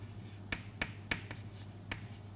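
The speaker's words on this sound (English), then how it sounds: "let me just write this here" Hand writing on a surface during a lecture on thermal oxidation of silicon, a few distinct taps and strokes spaced irregularly over a low steady hum, close and fairly quiet, with no talking.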